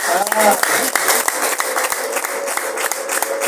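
A crowd claps in dense, continuous applause at a gathering, the patter steady and fairly close, with voices mixed in underneath.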